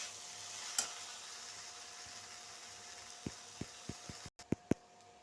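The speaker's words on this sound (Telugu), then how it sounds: "రైస్ వేసేసుకుని బాగా ఇలా కలుపుకోవాలి." Rice tossed with curry leaves in a pan, quiet at first, then a run of sharp spoon taps and scrapes against the metal in the final two seconds.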